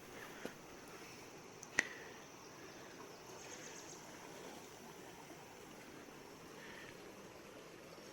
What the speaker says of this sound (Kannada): ಕೆಳಗೆ ಸೌಂಡ್ ಬರ್ತಿದೆಯಾ? ನದಿ ಸೌಂಡು, ಇಲ್ಲಿ ನೀರಿನ ಸೌಂಡು.